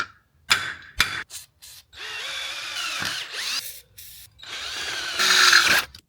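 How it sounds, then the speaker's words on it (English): Power drill boring out rivets on a rusty engine mount from a 1998–2002 F-body Camaro, with a few short bursts followed by longer sustained whining runs of the bit grinding through metal, loud and close, no talking. "I'm going to take a punch now and smack all these rivets in the center to start my drill."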